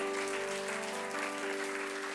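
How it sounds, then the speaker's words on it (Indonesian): Continuous applause from a church congregation fills the space evenly and steadily, with sustained musical tones ringing underneath. "Tepuk tangan yang luar biasa"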